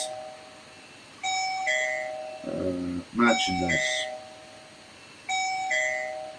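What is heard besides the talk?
doorbell ringing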